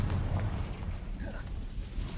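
A Confringo spell explosion in the video game Hogwarts Legacy, a low, rumbling blast and crackling burst that fills the short clip at moderate loudness.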